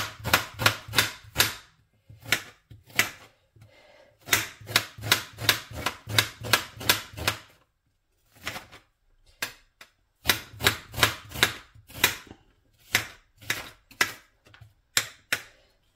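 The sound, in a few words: knife chopping onion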